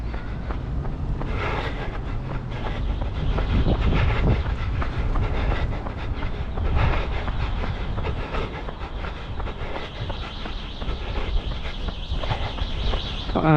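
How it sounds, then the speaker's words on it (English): Subway train running beneath a city street in Shenzhen, a loud continuous rumble with rhythmic clatter that swells and fades as the train passes below. "There's a subway line directly underneath me here, and this goes from downtown to kind of the edge of the city"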